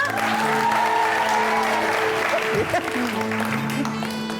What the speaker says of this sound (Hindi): तारिक भाई के लिए बहुत सारी तालियां